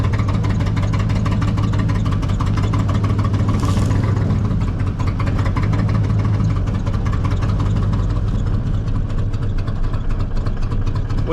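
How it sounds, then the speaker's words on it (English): A 2001 Mazda B3000 pickup that sat for 18 months, running low on fuel: a loud, rough, steady engine rumble with one sharp backfire pop early on. "Stop backfiring."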